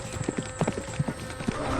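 Horse hooves clip-clop in a quick, uneven rhythm of close, loud knocks for a couple of seconds, with no voices.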